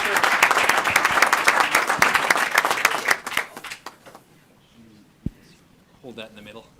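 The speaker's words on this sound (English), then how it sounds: "a big round of applause for our cross-country program" Board meeting room applause for a school cross-country program, loud dense clapping for about three seconds that thins to scattered claps, followed by quiet room noise and brief talk.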